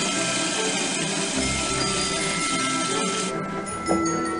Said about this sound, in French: On va d'abord mixer les petits biscuits.